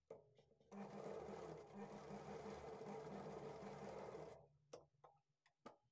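A sewing machine stitches a lined blouse along a quarter-inch margin, whirring in one steady run of a few seconds before stopping, followed by soft clicks and handling noises.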